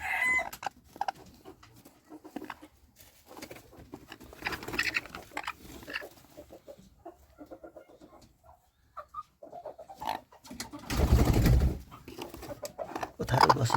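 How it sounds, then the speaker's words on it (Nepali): Chickens kept as pets cluck and a rooster crows in a backyard coop, with scattered clucks throughout and a louder burst of crowing near the end, no talking. "सब कुखुरा त्यही छ"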